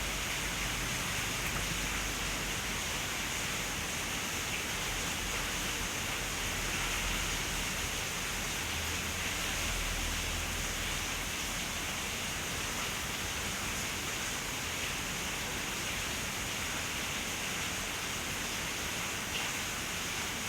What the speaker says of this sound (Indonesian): Hujannya gede banget guys